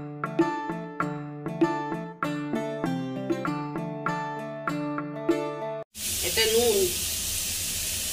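Papaya hits hot mustard oil with black cumin seeds, a loud, close sizzle bursting out after a run of plucked melodic music and continuing steadily to the end.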